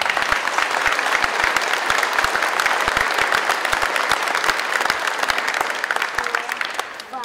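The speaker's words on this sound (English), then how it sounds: "let's give them a great big round of applause." Graduates at the 2019 Wikwemikong graduation ceremony receive a long, steady round of applause from the audience, dense clapping filling the hall throughout and tapering slightly at the end.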